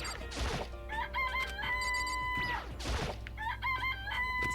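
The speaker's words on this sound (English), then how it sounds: "It's a chicken." A chicken in the game Danganronpa clucks and crows in loud, close bursts, with a brief crash in the middle and game music tones running underneath.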